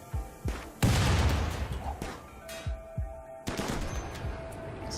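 Colonists firing guns during a raid in Rimworld: a few sharp shots, some single and some in quick pairs, spaced irregularly over a low hum, with one louder sustained burst.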